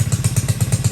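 A Honda SL70K1 motorcycle fitted with a Lifan 125 engine runs close by, its exhaust thumping in a quick, even pulse of about eight beats in under a second.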